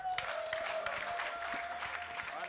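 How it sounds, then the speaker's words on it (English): An audience on a Nigerian TV game show claps steadily, a continuous patter of many hands at moderate loudness with a faint voice underneath. "Why are they clapping?"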